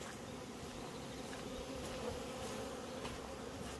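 Hornets buzz near a beehive hornet trap in a continuous, dense droning hum with no clear breaks. The sound is faint and steady, with no voices.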